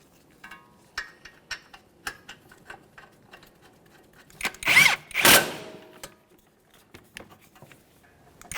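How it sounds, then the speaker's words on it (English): An impact or power tool tightens the caliper mounting bolts on a 1994-1997 Honda Accord, giving two loud bursts in the middle of a run of light ratchet-like ticks and clicks. "Once you have them started in, snug them up and torque them to 80 foot-pounds."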